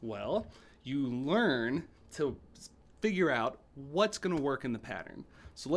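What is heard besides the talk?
No everyday noise stands out behind the speech.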